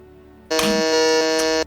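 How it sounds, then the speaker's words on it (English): Quiz-game buzzers in a Magic: The Gathering trivia show sound as a loud, steady electronic tone lasting about a second, with a second buzz overlapping near its start. "Oh, 2 buzzers there."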